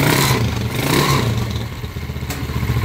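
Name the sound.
200cc converted motorcycle engine running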